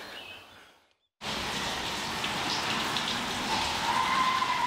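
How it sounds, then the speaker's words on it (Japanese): Steady rain falls after a brief silence, a dense continuous hiss of drops hitting surfaces, fairly quiet and with no voices. "雨ですね。"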